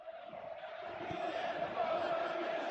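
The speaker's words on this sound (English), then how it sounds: "you can hear how the crowd are reacting to this too" Stadium crowd noise from a Real Madrid match in the football video game PES 2025, a steady roaring murmur that swells slightly, with a faint background commentator voice underneath.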